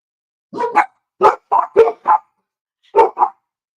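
A dog barks seven times at close range, in a quick burst of sharp barks, a short pause, then two more, with no other sound around them.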